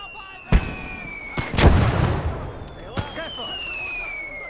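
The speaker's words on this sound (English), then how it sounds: "those mortars are getting too close" Mortar shells burst nearby in the video game Gates of Hell, with several sharp, loud blasts and rumbling echoes spread over a few seconds while a steady tone hums underneath.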